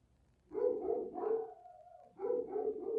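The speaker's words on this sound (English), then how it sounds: "Oh, those dogs." Dogs barking in two rapid bursts of repeated barks, fairly close and loud, with a sustained whine between them.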